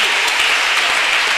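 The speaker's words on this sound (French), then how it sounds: "Acclamons le Seigneur pour ça" A church congregation clapping loudly and continuously, a dense wash of applause that fills the whole brief moment.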